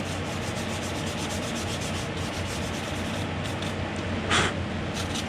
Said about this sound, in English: I've already put a piece of sharper sandpaper in the groove here.